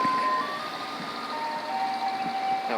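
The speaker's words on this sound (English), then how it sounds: "Our ice cream truck is back." A medium-pitch ice cream truck plays its tinkling Turkey in the Straw jingle, a thin melody drifting from a moderate distance over street ambience.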